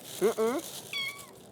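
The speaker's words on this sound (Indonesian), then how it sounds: "Kak Dimas beliin makanan buat kucing ini juga" Two close, clear meows from a young cat, followed by a higher, thinner third cry, all loud and near with quiet room tone between them.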